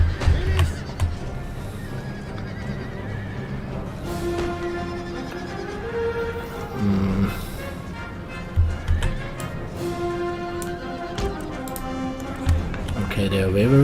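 Horses whinny and gallop amid a cavalry countercharge in a strategy game battle set in French colonial America, with repeated neighs over steady hoofbeats and background battle noise, while a voice talks throughout.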